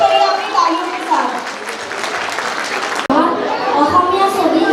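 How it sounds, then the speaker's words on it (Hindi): Parents applaud students at a school annual cultural fest, clapping heard beneath a loud announcer's voice and crowd chatter, with a brief cut partway through. "जोरदार तालियां हमारे चांदमारी के स्टूडेंट्स के लिए।"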